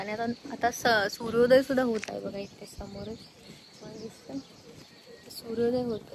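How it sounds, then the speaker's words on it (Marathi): Sparrows chirp faintly in the early morning around sunrise, their calls mixed beneath a person talking close by for most of the stretch. "आणि असं चिमण्यांचा चिवचिवाट वगैरे हे मला खूप आवडतं."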